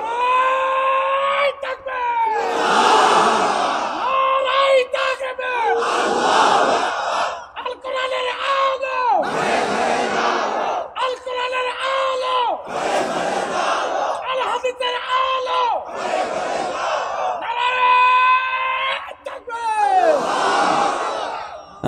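A large crowd at a sermon shouts takbir in repeated loud, drawn-out collective cries, each surge answering a single leading voice, with short pauses between the waves.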